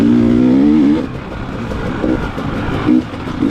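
Two-stroke dirt bike engine racing in a hare scramble, a loud close buzzing drone that revs high, then drops and keeps pulsing with brief surges.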